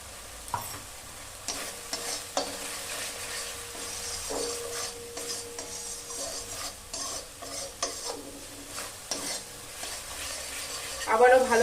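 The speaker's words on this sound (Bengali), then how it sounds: "গ্যাসের ফ্লেমটা এবার বাড়াবো, বাড়িয়ে এবার নাড়বো।" Masala for a katla fish kalia fries over a raised gas flame in a kadai, with steady sizzling and repeated scraping strokes of a spatula against the pan, close and moderately quiet.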